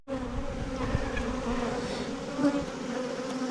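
Honey bees hum in a continuous, close buzz around the hive boxes as honey is harvested, the drone steady with slight swells and no voices.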